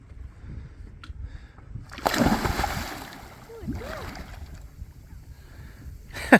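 A hull-scraping diver drops into the sea off a sailboat, raising a short splash and slosh of water, followed by quieter lapping and a voice speaking faintly nearby.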